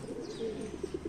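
Soft, low pigeon cooing close by, a few gentle murmuring coos in quick succession over faint background hiss.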